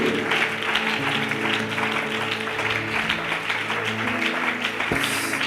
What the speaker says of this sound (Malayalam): നല്ല കൈയടിച്ച് ദൈവത്തെ സ്തുതിച്ചേ